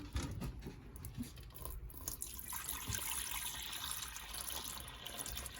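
Fresh water pouring into a reptile enclosure's water dish during a morning care routine, a steady continuous trickle and splash running the full length at moderate level, close by with no talking.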